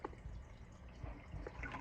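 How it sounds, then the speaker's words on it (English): Water drips and trickles from wet filter media lifted out of a Tidal 110 hang-on-back filter on a turtle tank, a soft, close patter of irregular drops. "let me let this just drip for a second here."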